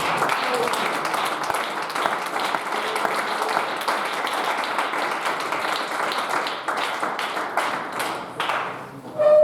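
Church congregation applauding during a French-language service, a sustained, steady crowd clapping that fills the room at even loudness before thinning out, with a voice coming in at the end.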